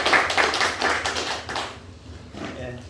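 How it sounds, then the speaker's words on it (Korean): An audience applauding to welcome a guest speaker at a farming seminar in Chupungnyeong: a short burst of close clapping that fades after about two seconds into quieter room sound. "큰 박수로 환영해 주십시오"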